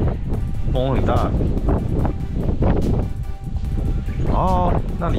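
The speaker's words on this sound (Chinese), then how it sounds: "风很大。" Strong wind buffets a coastal pavilion on a Matsu island, a steady loud rushing roar that blows across the microphone throughout, with a person speaking over it.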